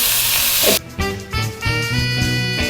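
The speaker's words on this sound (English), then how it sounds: "We just put the soy sauce in." Soy sauce hits a hot pan of stir-fried noodles with a loud, bright hiss that cuts off abruptly, followed by softer crackling and bubbling sizzle underneath a faint tonal hum.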